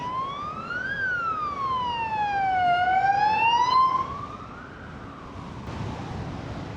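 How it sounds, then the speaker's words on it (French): A loud wailing ambulance siren sweeping up and down in pitch, close by as it moves along a lane of jammed Brussels traffic, then dropping off and continuing more faintly over traffic noise. "Alors ça, c'est une ambulance sur la 3e bande"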